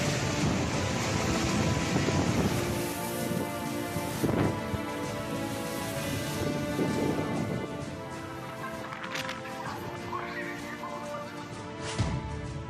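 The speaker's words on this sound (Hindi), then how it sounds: "तमिलनाडु और आंध्र प्रदेश में वर्दा तूफान का कहर।" Heavy rain pours steadily during Cyclone Vardah in Tamil Nadu and Andhra Pradesh, with dull thunder rumbles rolling underneath and a loud, continuous storm wash throughout.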